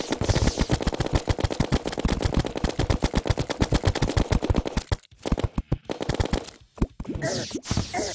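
Rapid gunfire from the video game Terraria, a fast, loud machine-gun-like stream of shots that breaks into shorter bursts and gaps near the end.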